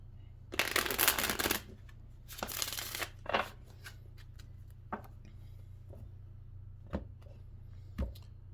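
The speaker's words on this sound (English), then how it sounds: "Let's get one more shuffle." Tarot cards shuffled by hand in a quiet room, with two bursts of riffling followed by a few soft, isolated taps and clicks as the deck settles.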